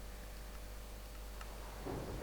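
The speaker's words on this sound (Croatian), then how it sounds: "Ova grmljavina, samo malo ljudi, izvinjavam se zbog ovoga." Thunder in the Minecraft video game, a faint, low, continuous rumble that swells slightly near the end, with no one talking.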